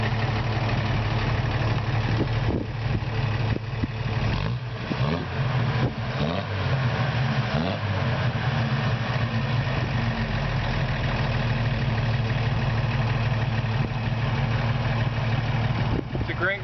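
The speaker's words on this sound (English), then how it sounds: "Exhaust, it's got a really unique tone." A 1973 Toyota FJ55 Land Cruiser engine idles steadily with a deep, distinctive exhaust tone, close and continuous, with a few brief revs early on.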